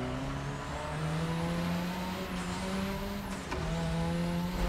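A Mazda RX7 in The Crew Motorfest revs and accelerates with a loud, continuous engine note that climbs through gears, with two sharp pitch drops at shifts before rising again.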